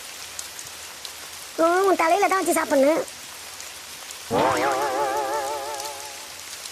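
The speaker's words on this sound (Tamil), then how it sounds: "இன்னைக்கு இந்த மானம் இப்படி ஊற்றுது மழை" Heavy rain pours steadily as a constant hiss throughout, while two voices talk loudly over it in bursts.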